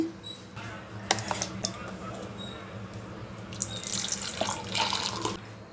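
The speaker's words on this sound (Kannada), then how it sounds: "ಮಸಾಲೆ ಮಜ್ಜಿಗೆ ರೆಡಿಯಾಗಿದೆ ಈಗ ಲೋಟಕ್ಕೆ ಹಾಕ್ತೀನಿ" Spiced buttermilk seasoned with ginger and garlic is poured into a glass, giving a close, steady liquid splash and trickle with a few louder bursts and light clinks.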